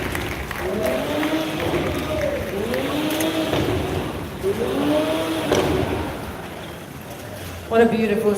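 A Toyota GR Supra engine revs repeatedly at a launch event, with rising and falling swells over steady crowd noise and a brief burst of applause or cheering near the end.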